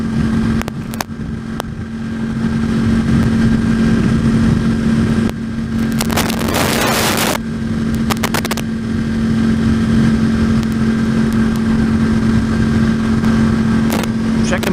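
A motorcycle cruising at highway speed: a loud, steady engine drone with heavy wind roar, briefly joined by a passing whoosh, while a rider talks over it.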